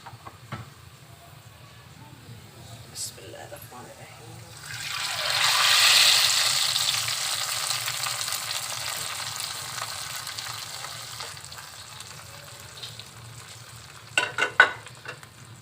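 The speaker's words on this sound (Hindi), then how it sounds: "अब हम तड़का लगाते हैं।" A sudden hiss and sizzle rises as spiced oil tempering hits the pan for mixed dal, peaking loudly then settling into a steady frying crackle, with faint clatter near the end.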